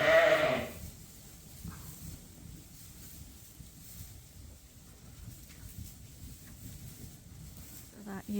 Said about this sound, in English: So it looks like we have several sheep in here that could lamb